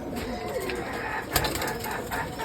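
A female orange Giribaj pigeon cooing faintly in short soft bursts close by, with low background noise and little talk.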